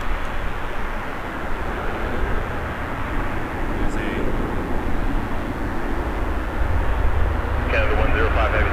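Loud, steady roar of a Jazz airliner taking off from runway 05 at Toronto Pearson Airport, broadband jet engine noise sustained and building slightly toward the end, with no talk over it.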